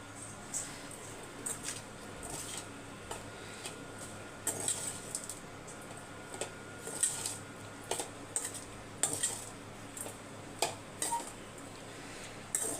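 A spoon scrapes and taps in a pan, stirring garlic pepper rice in a series of light, irregular metallic clicks and scrapes over a quiet background hum.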